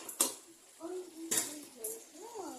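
Two sharp metallic clanks of a lid set back onto a cooking pot of pepper chicken, with a voice speaking between and after the knocks.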